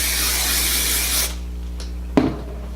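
A steady hiss of an aerosol spray for about a second, then it stops, followed by a soft click and faint handling noises.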